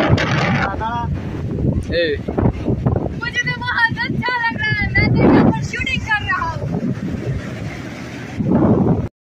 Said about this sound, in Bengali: এখানে এত পরিমাণে মানে হাওয়া হচ্ছে না, চুল টুল পুরো একদম উড়ে যাচ্ছে